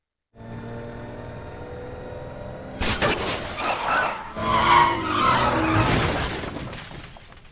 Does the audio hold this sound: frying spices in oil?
no